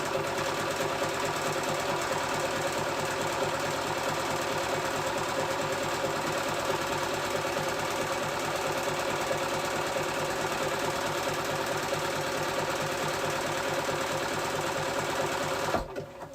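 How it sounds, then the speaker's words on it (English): A sewing machine runs a continuous zigzag stitch on dress fabric, a steady close mechanical hum and rapid needle chatter holding for several seconds before stopping abruptly. "I'm going to flip it and we're going to do the zigzag"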